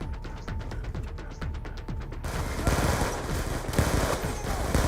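Rapid bursts of gunfire from Call of Duty: Black Ops II crackle in quick rhythmic shots, first a crisp rattling string, then a louder, denser barrage of overlapping fire that continues to the end.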